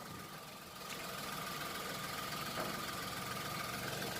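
Steady low hum of a Suzuki S-Presso car engine idling, close and even throughout after a slight rise in level near the start.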